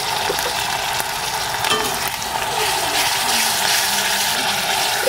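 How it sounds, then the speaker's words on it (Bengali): Tomato puree sizzles in a hot spice masala for chole, giving a steady frying hiss with occasional stirring scrapes and no speech. "এবার এর মধ্যে আমি টমেটো পিউরি দিয়ে দেবো।"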